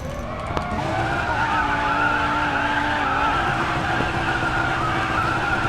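A car drifts in the Racing Master game, tires skidding in a long continuous squeal over the engine's sustained drone, loud and steady throughout.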